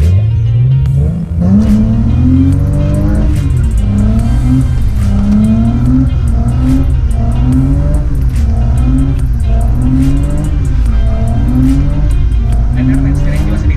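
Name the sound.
car drifting with engine revving and tire squeal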